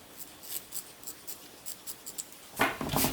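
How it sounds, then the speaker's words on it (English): Scissors snip through quilting cotton fabric around a curved seam in a series of quick, close, rhythmic cuts, followed by a louder rustle of handled fabric at the end. "I'm just going to kind of trim it so there's slightly less fabric when you turn it right side out"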